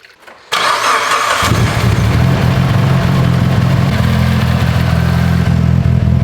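A Mitsubishi Evo engine cranks briefly and then fires up, settling into a loud, steady idle with a deep, throbbing rumble close by, no talking.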